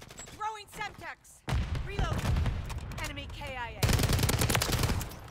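STG 44 assault rifle fire in Call of Duty: Modern Warfare III, rapid bursts of close, loud automatic shots in several runs with brief pauses, with someone talking over the gunfire.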